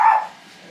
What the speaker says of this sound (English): Sorry, Bella's barking.